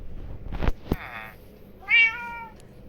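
A cat gives two distinct meows, the second longer and louder, between a couple of sharp knocks in a quiet room.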